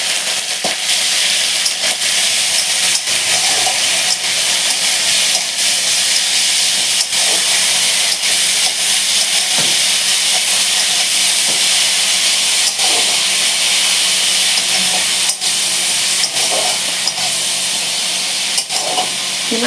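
Minced chicken keema sizzling in a hot pan at home, a steady loud hiss with scattered small pops and crackles throughout, no voices over it.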